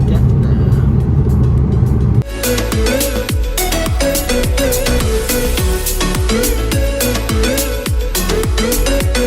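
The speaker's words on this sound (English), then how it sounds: "We're just driving, so I guess we'll see you when we get there" Car interior on a drive to Lamington National Park, a steady loud engine and road rumble running throughout, with a shift partway in and repeated short tonal chimes or clicks layered over the drone.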